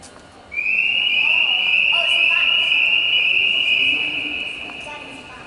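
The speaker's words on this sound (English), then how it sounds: "This fire alarm there." A museum fire alarm sounds as a loud, steady high-pitched electronic tone, starting abruptly and holding for about four seconds before tapering, with faint voices and a hall's ambient murmur beneath it.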